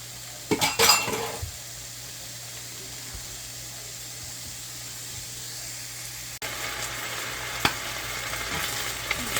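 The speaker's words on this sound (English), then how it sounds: "we want to get that fried up" Beef and broccoli stir fry sizzling in a pan, a steady soft hiss with a few clinks of utensil against the pan near the start and a louder burst of frying toward the end.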